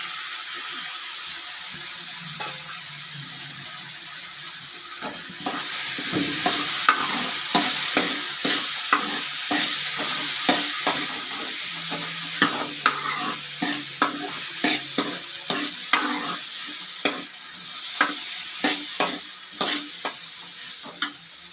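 Tomatoes frying in a pan with slit green chillies for sambar: a steady sizzle under repeated close scrapes and knocks of a spoon stirring, with no talking.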